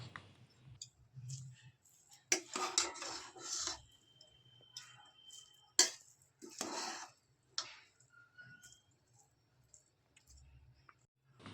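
A spoon scrapes and clinks against a pressure cooker while cooked tomato rice bath is mixed, in irregular close bursts separated by quiet gaps.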